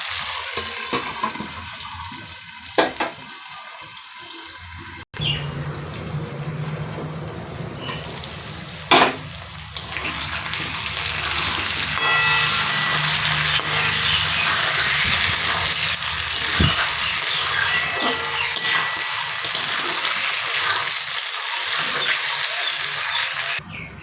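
Ridge gourd and potatoes fry with salt and turmeric in a pan, a rushing hiss that swells and stays dense and loud through the second half, with a few scattered knocks and no speech.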